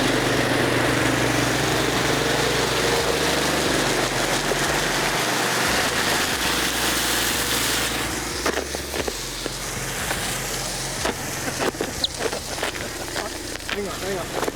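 A 2700+ horsepower VL race car with an RB engine revs loudly and steadily at high RPM, a continuous roar that eases slightly partway through, with sharp clicks and crackles over it.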